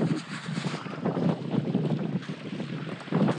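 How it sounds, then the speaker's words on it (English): Strong wind buffets the microphone out on open water during kayak fishing with whitecaps around, a loud, rough, fluctuating rumble with gusty surges throughout, no voices. "We weren't supposed to have over seven mile per hour wind today."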